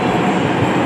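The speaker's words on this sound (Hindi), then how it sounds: "मेट्रो भी हमारी आ चुकी है" A Delhi metro train rolls in with a steady, loud rumble and wheel noise, filling the short moment with no voices.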